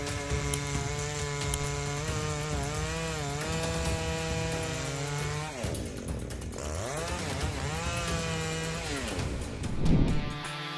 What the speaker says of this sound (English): the Husqvarna 560 XP chainsaw is capable of handling difficult and varied tasks on both harsh and dirt sites